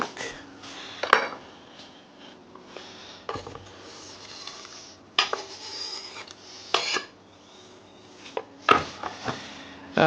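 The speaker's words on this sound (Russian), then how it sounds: "Сейчас меленько порежем и отправим туда в кастрюлю." A knife cuts barrel-pickled cucumbers on a board in a home kitchen. Sharp knocks and clatters come in irregular clusters with quiet gaps between them, close and clear, with no talking.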